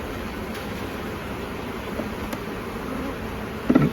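Honey bees hum around an open hive as frames are checkerboarded during a honey inspection, giving a steady, fairly close drone with a brief louder burst near the end.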